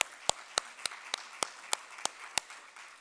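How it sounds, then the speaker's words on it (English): Sparse applause after a conference panel discussion on Afghanistan, a handful of distinct claps landing at roughly even intervals over a soft background. "Round of applause for our panelists."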